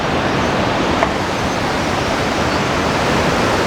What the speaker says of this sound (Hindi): ये मंदाकिनी नदी है